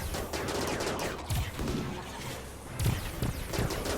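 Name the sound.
gunfire in the video game RimWorld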